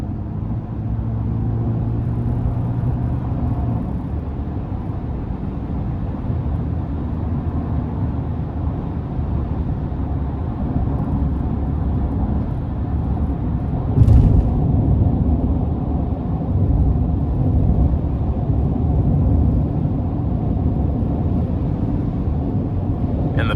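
A 2022 Chevrolet Silverado 1500 pickup with a 2.7-liter turbocharged four-cylinder accelerates on an interstate, giving a steady, loud low engine and road rumble from inside the cab, with a brief thump around the midpoint.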